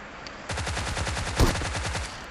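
A rapid burst of shotgun fire in BGMI on the Erangel map, with a heavier blast in the middle, loud and continuous, no speech.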